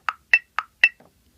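A metronome clicks four times at an even pace, with alternating higher and lower-pitched sharp ticks marking accented quarter notes against eighth notes, close and crisp, followed by a faint softer tap.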